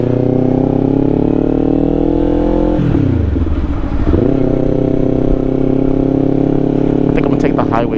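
A 2024 Kawasaki Ninja 500 KRT SE rides along with its engine droning steady and close, the pitch rising, then dropping sharply on a gear change before settling again, all under heavy wind rush.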